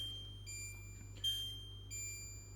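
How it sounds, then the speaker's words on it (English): Electronic beeps from a Pressure King Pro pressure cooker being set for chicken and potatoes: three short, high-pitched tones spaced roughly evenly over a couple of seconds, heard over a low steady hum. "And that beep is really annoying."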